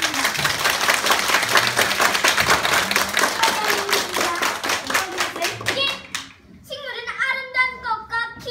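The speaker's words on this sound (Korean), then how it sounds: "박수 드리겠습니다" Classroom applause in a North Korean elementary school: rhythmic, unison clapping from children that runs several seconds, then stops as a voice begins speaking.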